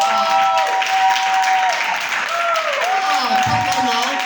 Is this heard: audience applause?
yes